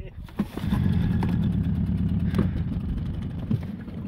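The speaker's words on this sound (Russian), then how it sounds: "Если мотор у нас перестанет" An outboard boat motor drones steadily at a low pitch throughout on a forest fishing trip in October, with people talking over it and a few knocks and splashes.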